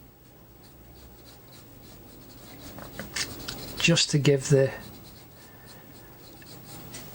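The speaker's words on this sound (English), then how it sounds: "Or you could use something like a 2H pencil," A 2H pencil shades gently on paper in short scratchy strokes, soft at first and then a denser burst of rubbing, while a voice talks over part of it.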